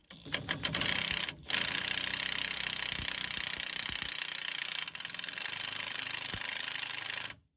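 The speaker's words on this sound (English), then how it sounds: "I'm going to take a larger impact and try to get this on the bottom, which once again is a 14 millimeter, and I will just loosen this using the larger impact" An impact wrench loosens a 14 mm sway bar bushing nut on a 2004 Ford Mustang, giving a few sharp opening bursts, then a long continuous rattling hammer with a brief pause, close and loud, with no talk.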